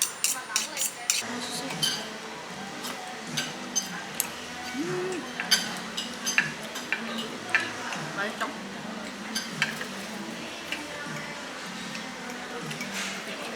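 Grilled meat being cut at the table with cutlery during a casual clam-grill dinner, bringing repeated light clinks and scrapes of metal on dishes, some close and sharp, under steady chatter and restaurant background noise.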